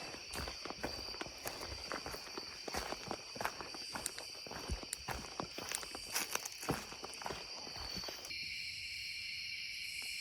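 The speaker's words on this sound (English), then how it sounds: "Sound like you hear some other hikers coming." Footsteps of other hikers crunch along a forest trail in Georgia at night, a quiet irregular shuffle under a constant drone of insects, with no talk.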